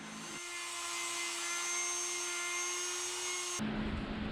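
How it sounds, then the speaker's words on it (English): A Dremel rotary tool hones the inner race of a pinion bearing for a Dana 60 axle regear, a high steady whine of grinding that holds for a few seconds, then drops off abruptly. "hone out the inside race of this bearing with our Dremel"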